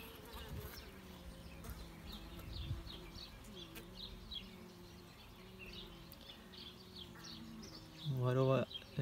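Honey bees droning steadily around a healthy hive of local bees, a continuous close buzz with a louder burst near the end, a faint chirp or two in the background.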